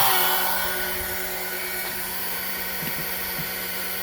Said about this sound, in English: Once the spindle is on